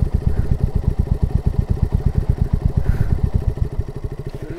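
An off-road motorcycle engine revs hard at full throttle, a loud, steady, rapid pulsing drone with clattering mechanical rattle that holds close and continuous throughout.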